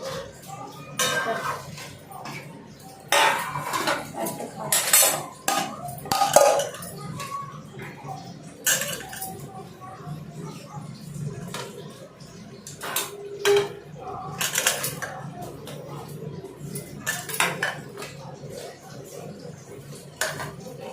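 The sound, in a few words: dishes clinking while serving rice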